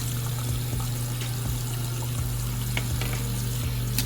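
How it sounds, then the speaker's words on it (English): A makeup brush is rinsed under a running tap, with steady close splashing water over a low constant hum and faint periodic ticks, no voices. "So I keep doing that. I rinse it out."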